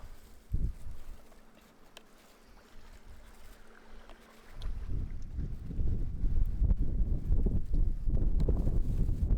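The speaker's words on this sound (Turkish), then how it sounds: "Bayağı da rüzgar var arkadaşlar." Gusty wind buffets the microphone outdoors, a low rumbling roar that turns much stronger and steadier halfway through.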